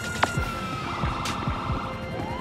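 Police car siren from the video game GTA 5, wailing up and down close by over a rumbling engine and road noise, with a short horn-like blip near the start.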